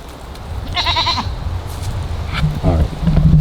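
A voice imitates a goat's bleating with two short, wavering, nasal bleats, close to the microphone, against a steady low background hum.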